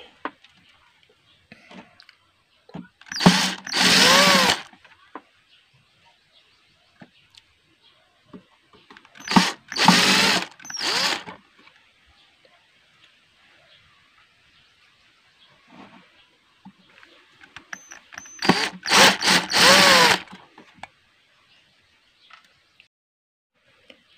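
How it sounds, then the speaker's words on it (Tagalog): An electric screwdriver whirs in three short bursts, each a second or so long, backing screws out of a Bluetooth speaker casing, with quiet clicks and handling noise between bursts. "So mabilis siyang pagbaklas sa mga screw. Di katulad ng mga screwdriver na mano-mano."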